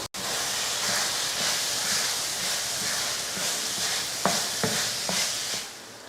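Cooked rice stirred into sautéed coriander paste in a pan, a steady frying sizzle with soft scraping stirs and a few sharper spatula knocks against the pan near the end.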